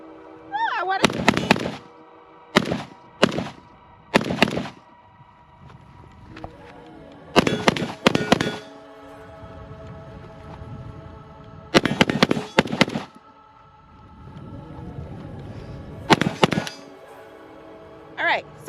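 Century Arms VSKA American-made AK-47 rifle firing outdoors in several loud, sharp bursts of rapid shots, separated by pauses, with people talking between the strings of fire.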